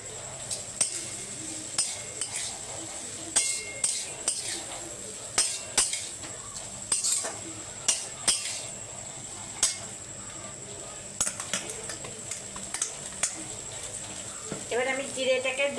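Metal spoon clinking and scraping against a pan while flattened rice (chira) is stirred for chira pulao, repeated sharp taps at an irregular rhythm over a faint background hiss, with a short sizzle-like burst at the end.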